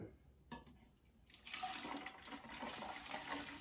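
Hot water poured from a tap onto a Barbie Color Reveal doll in a glass dish, a quiet start giving way to a steady soft rush of flowing water.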